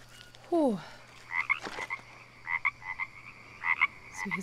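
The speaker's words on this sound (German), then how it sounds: "So, hier sind ganz viele Frösche." Many frogs croak in a jungle swamp in the video game Green Hell, short repeated calls scattered across several seconds at moderate loudness with no talking.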